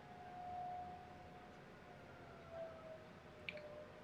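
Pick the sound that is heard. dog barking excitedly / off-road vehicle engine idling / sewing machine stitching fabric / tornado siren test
tornado siren test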